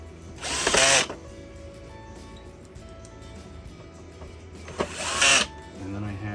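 Two short whirring bursts from a power screwdriver, about four seconds apart, driving out screws from a Bissell Spot Clean shampooer, close and loud, with quiet handling noise between them.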